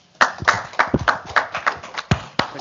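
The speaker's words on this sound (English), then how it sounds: "A round of applause." A small audience gives a brief round of applause at a hydrogen industry panel discussion in Rotterdam, sparse separate claps rising suddenly and thinning out over a couple of seconds.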